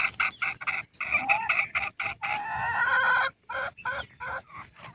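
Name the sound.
chickens clucking in a coop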